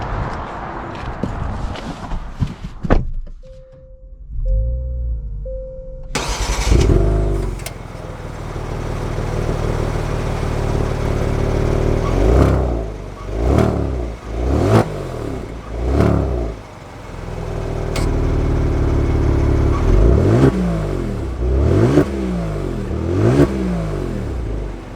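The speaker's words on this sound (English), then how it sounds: "Let's take the G70 out and see how it drives." A 2022 Genesis G70 Launch Edition starts up and pulls away, its engine rising through several revving surges over a steady running hum, heard close from inside the car.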